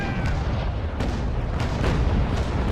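Ship cannons in the naval game Naval Action boom in a ragged series of dull, heavy reports, roughly five or six shots over a few seconds, layered over a constant roar of sea and wind.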